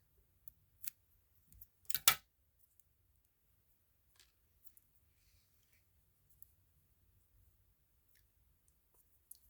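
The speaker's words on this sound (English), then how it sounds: "You get your scissors and cut this off." Scissors snip through cord a few times close up, sharp quick cuts in a quiet room, followed by faint clicks and handling sounds.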